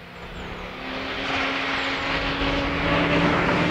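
A Ford Focus RS with a five-cylinder engine, a Nordschleife track car, idles and revs steadily nearby in a loud, continuous droning growl that swells slightly over several seconds.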